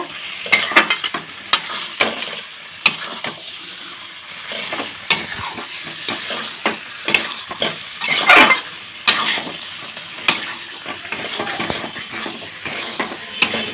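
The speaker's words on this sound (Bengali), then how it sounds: "এবার দেখো এখানে এঁচোড়টা দিয়ে দিলাম। এবার ভালো করে মিশিয়ে নেব।" Young jackfruit with poppy seed being mixed in a pan, a spatula scraping and knocking against the metal in irregular strokes over a soft frying sizzle, close and fairly loud without speech.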